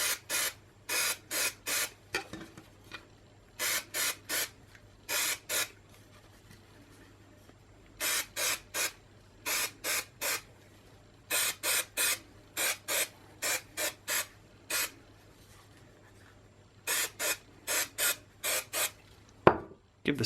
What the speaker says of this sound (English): Give the spray mount a couple of minutes.